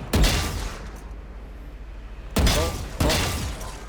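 Gunfire from the Thai shooting game I-Lab Pon: one sharp loud shot, a stretch of low background noise, then two more shots close together near the end, each with a short ringing tail.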